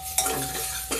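Garlic and cumin frying in a pan: a steady close sizzle with a couple of sharper scrapes as the spice is stirred.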